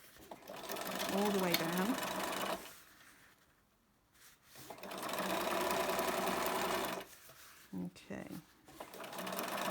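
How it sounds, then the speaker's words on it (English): A sewing machine stitches bias binding onto a bumbag in two loud, fast bursts of rapid mechanical clatter separated by a pause, with a few short stitches after; a person speaks briefly over it. "Just sew in the fold, and the fold should line up with that stitch"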